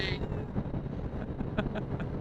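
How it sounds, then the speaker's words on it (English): Wind buffets a microphone during a motorcycle ride from Hagafoss to Rauland in Norway, a low, rumbling roar that holds steady for a couple of seconds, with faint engine noise mixed in. "it's windy"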